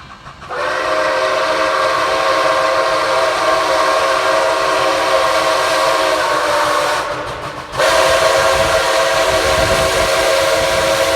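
A loud, sustained whistle from the Nickel Plate Road 765 steam locomotive blares over the rumble of the passing excursion train, briefly dropping out before sounding again, steady and close.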